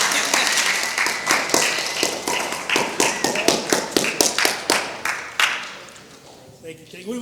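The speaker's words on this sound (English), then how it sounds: "Clap it up for yourselves" Gentlemen in an audience at a Columbus City Prep school gathering applaud, a ragged run of sharp claps, bursts and whoops that swells then thins out and fades near the end.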